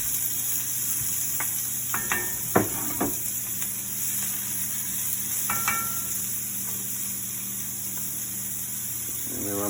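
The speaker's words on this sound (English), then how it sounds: "And then when I'm sauteing onions" Diced onion sautés in hot, nearly smoking oil for a chicken curry, giving a steady sizzling hiss with occasional utensil clinks and scrapes against the pan.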